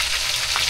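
Food fries in hot oil during home cooking with garlic and tomato nearby, giving a steady close hiss of sizzling and crackle with no talking.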